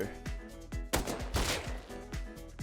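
Rapid gunfire in a survival video game played on a crowded wipe-day server: a quick burst of shots close together, loud and sharp, with a brief pause in the middle.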